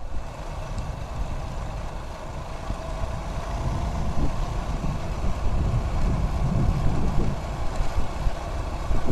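An old Honda Astrea Grand motorcycle engine gives a low, steady rumble with an uneven, throbbing chug, continuous and moderately loud throughout, no voices.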